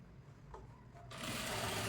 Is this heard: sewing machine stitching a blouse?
yes